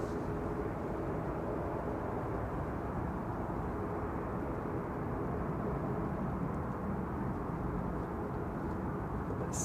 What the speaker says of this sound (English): Qatar Flight 23 coming in from Doha, 787-9 Dreamliner A7BH jet